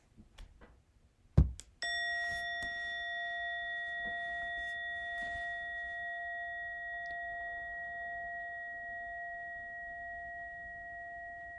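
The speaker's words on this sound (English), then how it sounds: "in a moment, you'll hear a bell or a chime. Listen to it as it gets quieter and quieter" A single bell or chime strikes once after a few soft taps, then rings on with a steady pure tone that slowly grows quieter and quieter, heard alone in a quiet room.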